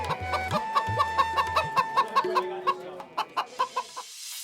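A cartoon rooster clucks in a quick run of short, evenly spaced calls, loud and close, over light background music with no talk.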